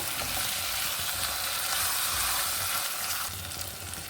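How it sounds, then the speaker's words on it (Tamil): Tomatoes and green chillies frying together in a pan for chicken biryani, a steady broadband sizzle with faint stirring, close and continuous throughout, easing slightly toward the end. "அது கூட எடுத்து வச்ச தக்காளியும் சேர்த்துக்கிடலாம் இதையும் நல்லா மிக்ஸ் பண்ணி வச்சுக்கோங்க"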